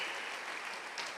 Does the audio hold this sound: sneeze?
no